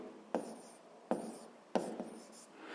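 A pen writes physics values on paper in three quick strokes, each beginning with a sharp tap and trailing into a short scratchy scribble, close and fairly clear with no talking.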